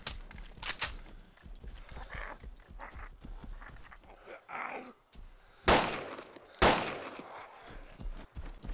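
Two sharp gunshots ring out from a rifle in DayZ on the Taviana map, loud and close, separated by about a second, with softer game ambience and faint clattering before them.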